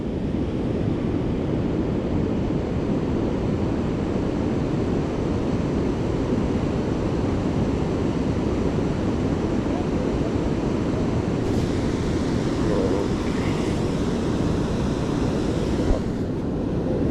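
Heavy rain pouring during a rainstorm at a big river spillway, a dense, steady broadband rush of water and rain with wind buffeting, loud and continuous throughout, with no talking.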